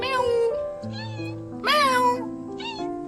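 A mother cat nesting with her kittens among stacked wood gives several loud, drawn-out meows in separate bursts, with one rising, strained call in the middle, and a few quiet sounds around them.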